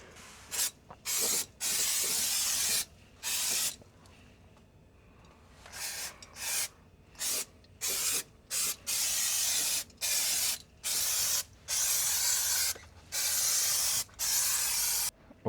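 Rust remover sprayed in and around a 20-year-old Toyota Land Cruiser 120, heard as many close, loud hissing bursts of varying length separated by short pauses, with faint handling noises between them.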